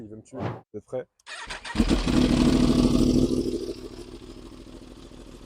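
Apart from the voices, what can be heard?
2019 Yamaha R1 motorcycle engine starting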